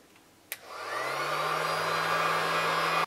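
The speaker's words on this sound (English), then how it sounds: "so next what you want to do is heat shrink it" A heat gun switches on with a sharp click and ramps into a steady, loud blowing hiss with a low hum while shrinking heat shrink tubing over freshly soldered wires on a DJI Phantom 2 drone, then cuts off abruptly.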